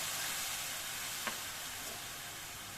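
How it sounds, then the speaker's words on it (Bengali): Water poured into a hot kadai hisses and sizzles loudly and steadily at close range, with a faint stir or clink partway through, while sesame and peanut laddoos are being made. "এখন আমি ছোটো কাপের 1 কাপ জল দিয়ে দিলাম কড়াইয়ে।"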